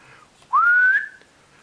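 A single rising whistle used as a call in the Danish card game Brus, sliding upward then holding steady for about half a second, clear and alone in a quiet room.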